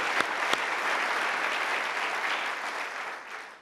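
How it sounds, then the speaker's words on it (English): A conference keynote audience claps for the organizers, a full round of applause heard from start to finish and fading slightly at the end. "Please give them a round of applause."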